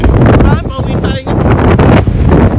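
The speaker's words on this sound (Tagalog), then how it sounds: "tingnan nyo ang taas ng hampas ng hangin" Strong wind from a winter snow blizzard in Nova Scotia roars and buffets the microphone in heavy gusts, with people talking underneath throughout.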